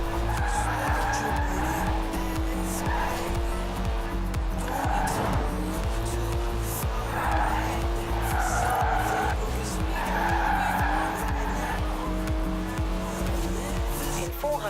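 A Nissan Skyline driven hard in Forza Horizon 4, engine roaring steadily with repeated tire squeals and skids through corners, loud and close with occasional talk over the top.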